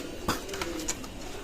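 Pakistani Teddy pigeons give a short, soft coo with a low drawn-out note, close and fairly quiet, against a faint background hiss.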